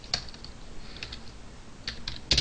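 A computer keyboard clatters as Java code is typed, with quick clusters of close, crisp keystrokes separated by short pauses and no talking.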